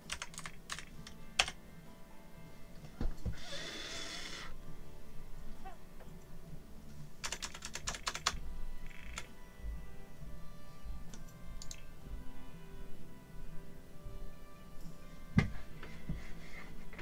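Computer keyboard typing in bursts of quick clicks, fairly close, over a low background hum with no talking.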